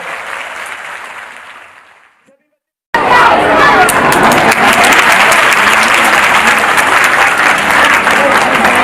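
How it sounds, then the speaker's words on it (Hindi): Crowd noise fades to a brief silence, then loud, sustained applause erupts from many school children at an intercollege annual function, clapping steadily for several seconds. "तालियां बजाएं सभी बच्चों से।"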